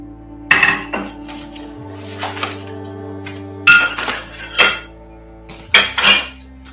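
A bag of metal hardware for a laser camera mounting arm, nuts, bolts, screws and wrenches, is handled up close, giving four bursts of loud jangling clinks and rattles separated by short pauses.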